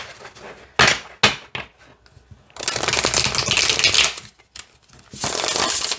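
Bursts of flexible tarot cards being riffled and bridged, sharp crackling flutters separated by brief pauses, close and fairly loud with no talking.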